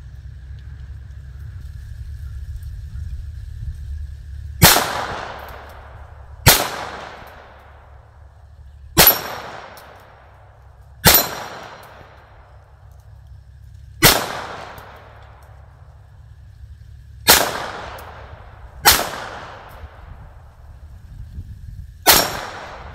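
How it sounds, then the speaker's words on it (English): A Ruger 22/45 Lite .22 pistol fires eight shots at steel paddle targets, each a sharp crack with a brief ringing tail, spaced irregularly about two seconds apart over a low steady background hum, with no talking. "So let me shoot these rounds, and I'll see if I can flip those paddles with some careful aiming"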